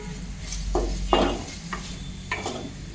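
Roasted gram flour being stirred into a radish-leaf bhaji in a pan makes a few soft scraping strokes over a faint sizzle, close and moderate in level, with no talking.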